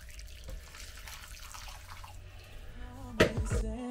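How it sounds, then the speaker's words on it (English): Boiling water is poured into a bowl for a triple-layer jelly, giving a faint, brief splashing trickle, followed by a louder clatter and a voice near the end. "So next I want 285 mils of boiling water."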